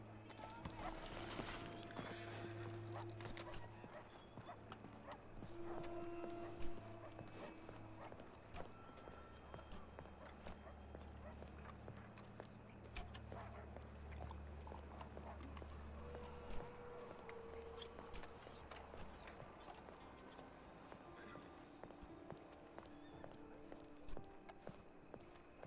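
Horse hooves clip-clop at a walking pace in the Red Dead (RedM) roleplay game, a steady close rhythm of hoof falls that carries on under intermittent talking and other game sounds.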